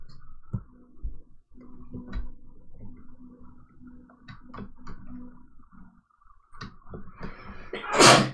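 A single sharp sneeze bursts out loudly at the very end, after several seconds of quiet room noise with soft clicks and taps during a live animation stream.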